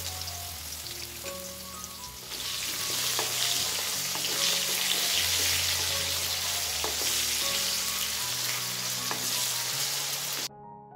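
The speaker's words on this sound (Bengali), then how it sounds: "এরপর আলুগুলোকে একটু ভাজা করে নেব।" Potatoes fry in oil tempered with whole cardamom and cloves. A quiet start gives way to a sudden, loud, steady crackling sizzle that holds nearly to the end, heard up close with no talking.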